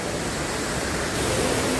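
The Tat Khu waterfall at Pak Song in Laos gives a steady, full roar of falling water, constant and unbroken, with no voices over it.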